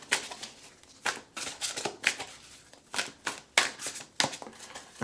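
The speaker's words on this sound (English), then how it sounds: "I'm shuffling now." A tarot deck is shuffled by hand in a quiet room, with a series of soft, close riffling and slapping bursts coming in an uneven rhythm.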